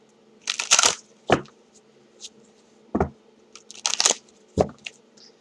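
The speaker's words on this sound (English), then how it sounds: "I just want to give it a quick shuffle." Tarot cards being shuffled by hand in a quiet room: several short bursts of riffling and crisp papery slaps, some closer together, with pauses between and no talking.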